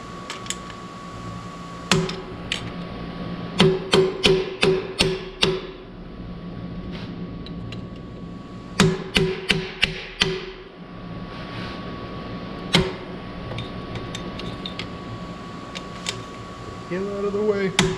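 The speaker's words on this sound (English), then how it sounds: "Flathead and a hammer it is." Quick bursts of sharp metallic taps as a hammer strikes a flathead screwdriver during amp wiring work, several rapid clusters of hits spread over the stretch with a steady hum beneath.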